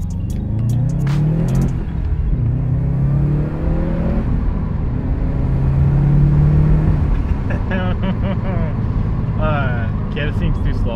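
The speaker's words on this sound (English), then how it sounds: "Let's do a little pull for the boys." A Subaru STi pulls hard, its engine rising and falling in pitch through the gears with a steady, loud drone inside the car, and someone speaks over it near the start and end.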